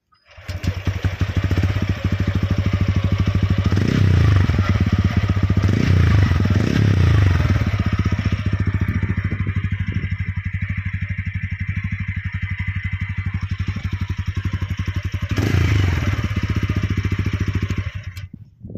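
TVS Ronin motorcycle engine idling close by, a steady low thumping exhaust beat with a couple of throttle blips early and another rev near the end, loud and alone without talk.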